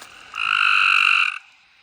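A gray tree frog calls at night near a creek, one loud, close, buzzy trill lasting about a second, standing alone against a quiet background.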